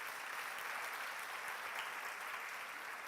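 A church congregation applauds during a service, a steady, dense wash of many hands clapping that holds at an even level throughout, with no voices standing out.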